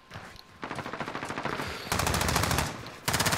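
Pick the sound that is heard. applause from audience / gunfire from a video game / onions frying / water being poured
gunfire from a video game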